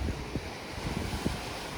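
Sea waves wash against the shore at the Diu fort under steady wind buffeting the microphone, a soft, continuous roar with no voices.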